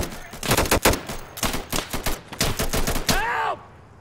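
Gunfire in the video game Insurgency: loud bursts of rapid automatic shots in quick clusters, sharp and close, ending with a brief ringing tone.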